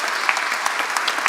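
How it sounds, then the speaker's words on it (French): An audience at the inauguration of Henri Fabre's Canard seaplane at an aeronautics museum applauds steadily, a sustained wash of many hands clapping with no break. "Je vous demande de les applaudir"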